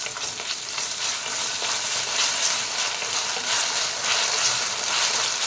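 Onions with ginger garlic paste fry in a pan for a mushroom curry, giving a loud, steady, close hiss of sizzling oil with soft stirring underneath and no talk.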